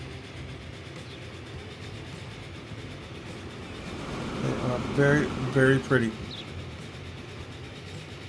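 Trains running in the Transport Fever 2 game give a low, steady rolling rumble with faint rail clatter, under a voice talking over the middle of it.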